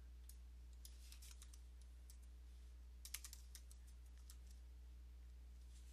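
Faint keystrokes on a computer keyboard come in scattered short runs of clicks, with a brief denser burst near the middle, over a quiet steady background hum.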